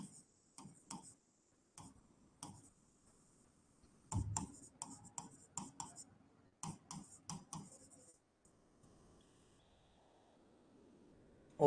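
A pen scratches across paper in short bursts of writing separated by pauses, close and quiet with no voice.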